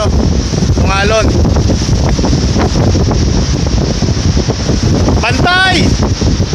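Strong sea waves and gusting wind at a boat landing during a lifting operation, a constant loud roar of wind buffeting the microphone with surf beneath and two brief shrill chirping sounds.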